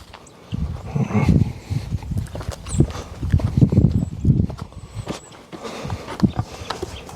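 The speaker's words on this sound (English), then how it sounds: "Coming down here, it's our new boar, Eustace." A Berkshire boar moving over outdoor farm ground in winter, with repeated low, close thuds, shuffling steps and snuffling grunts.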